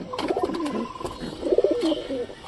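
Pigeons coo close by among squabs being checked, two short rounds of soft rolling coos separated by a brief pause, with faint background noise.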